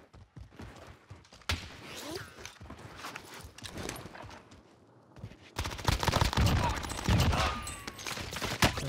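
Gunfire in the Warzone battle royale shooter game, with rapid automatic bursts and scattered shots rising to a louder close volley near the end, heard under a player's talk and footstep sounds.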